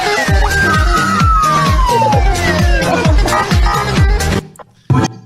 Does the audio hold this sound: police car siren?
yes